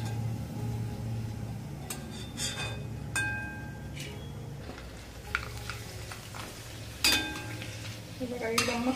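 Homemade potato wafers (batata vefers) being stirred in hot oil in a pan, with soft steady sizzling under scattered clinks and scrapes of a stirring utensil against the metal, plus faint background noise.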